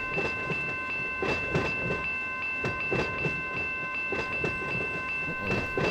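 A freight train in the Run8 V2 simulator rolls steadily along, with a repeating clickety-clack of wheels over rail joints above a constant rumble and a few faint steady tones, heard alone and close.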